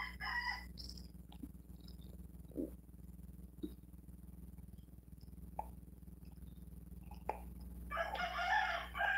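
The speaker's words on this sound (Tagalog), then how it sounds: "Yung chicken na lang magsabi sa inyo ng good morning ha, kasi naka-mute." A rooster crows near the end, a bright, loud call over a steady low hum, with a few faint knocks earlier in an otherwise quiet room.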